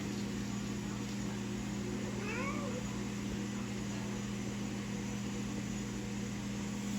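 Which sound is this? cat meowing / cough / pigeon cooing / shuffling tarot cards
cat meowing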